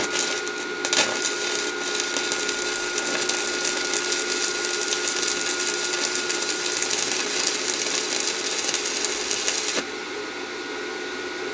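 An arc welding rod laying a practice bead on a bit of metal gives a continuous loud crackle and buzz with dense spitting pops. It stops abruptly near the end, leaving a quieter hum.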